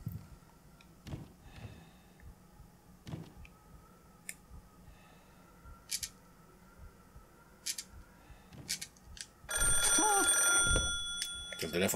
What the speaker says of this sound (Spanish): El teléfono, tío.